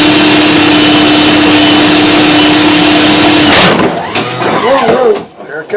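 A RIDGID 306 flexshaft drain cleaner spins inside a pipe with a loud, steady motor whine. Partway through it cuts off and gives way to rattling and scraping.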